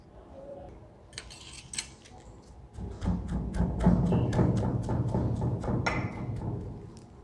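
A giloy (Tinospora cordifolia) stem is chopped into small pieces, giving a string of sharp, close cutting clicks and knocks that grow busier and more continuous after the first few seconds, with no talking.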